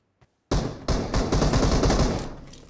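Gunfire in PUBG Mobile, a sudden loud burst of rapid automatic shots with echoing booms that rolls on for about two seconds, preceded by one faint distant pop.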